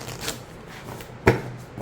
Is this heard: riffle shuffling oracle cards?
yes